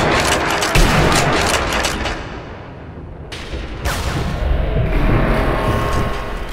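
Sniper rifle shots and gunfire in the World War II shooter Sniper Elite V2, a dense stretch of loud blasts and sustained battle noise with booming low impacts, dipping briefly midway before the firing swells again.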